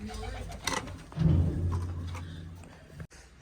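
Soft, low pigeon coos nearby, a rolling call rising and fading once over faint background noise.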